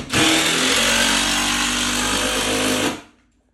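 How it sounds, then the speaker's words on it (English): A power drill running in one continuous loud burst of about three seconds during home construction work, then cutting off abruptly to quiet. "I love to hear the drills going and the hammers nailing because that means real work has been started."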